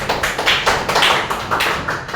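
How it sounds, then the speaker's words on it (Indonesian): Hands clapping in a Christian religious education classroom, a quick run of sharp, close claps in a steady rhythm lasting about two seconds, with no talking. "Tepuk tangan dulu."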